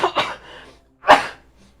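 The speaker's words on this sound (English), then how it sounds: "Sorry for the sneeze there" A single close sneeze with a quick intake of breath and then a sharp burst, in a quiet room.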